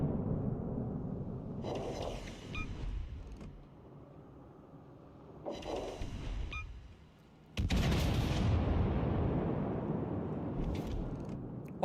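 Heavy battleship guns fire in the World of Warships Legends naval combat game. Two rumbling volleys of artillery booms come a few seconds apart, followed by a louder, sustained roaring blast. No one speaks.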